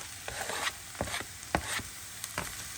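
Finely grated carrots frying with golden onions in a pan, a quiet steady sizzle broken by a few sharp clicks and scrapes of stirring, with no voices.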